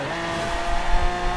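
Lamborghini Aventador engine in the Forza Horizon 4 racing game, a steady loud roar with low rumble and a brief swell near the end, continuous through the short stretch.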